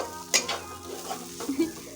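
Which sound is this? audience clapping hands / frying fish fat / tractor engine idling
frying fish fat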